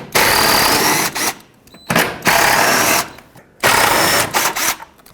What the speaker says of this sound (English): Inside the airbox, there are 3 10mm bolts that hold this down.